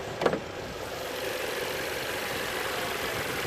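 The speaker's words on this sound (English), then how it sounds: "I believe this might be the 5-cylinder TFSI engine. You can hear that." Audi A3 from 2017 with a 5-cylinder TFSI engine idling under an open hood, a steady, quiet hum following a brief knock or click at the start.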